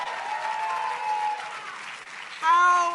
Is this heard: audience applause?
yes